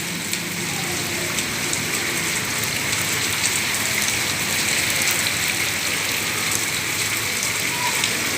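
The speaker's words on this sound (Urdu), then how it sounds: "اس کی آواز بھی آ رہی ہوئے گی بارش کے ہونے کی، بہت تیز بارش ہے۔" Heavy rain pours down in a dense, continuous hiss of drops hitting surfaces, loud and steady throughout with no voices.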